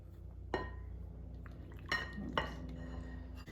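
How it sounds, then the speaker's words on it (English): A metal spoon stirs a wet honey and vanilla mixture in a bowl for baked donuts, with three or four bright clinks against the bowl and soft scraping in between, close up and with no talk. "Give that a mix, and we'll add it to our dry ingredients."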